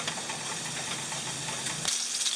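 Sausages cooking in a pan beside a pot of water heating for spaghetti, giving a continuous sizzling hiss that grows brighter and more crackly toward the end.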